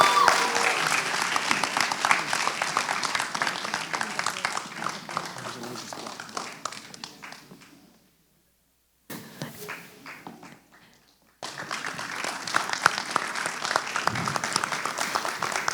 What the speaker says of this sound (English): Clap for our growth.